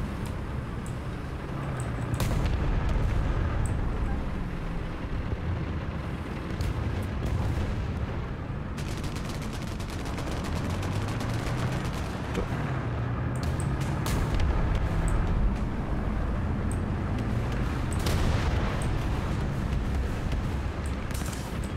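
Booming tank cannon fire and explosions in War Thunder, a German tank battle, rumbling over steady engine drone, with several heavy shots spaced across the stretch.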